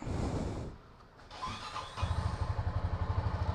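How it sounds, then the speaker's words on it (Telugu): A motorcycle cold-started in the morning: a cranking starter whir, a brief catch, then the engine settles into a steady, pulsing idle, close and alone. "బైక్ కోల్డ్ స్టార్ట్ చేద్దాం."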